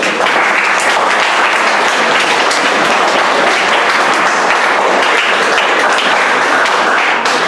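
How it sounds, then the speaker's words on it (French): An audience claps for a guest at an event marking the International Day of Non-Violence, loud, sustained, dense applause filling the room throughout. "Un applaudissement pour M. Alain."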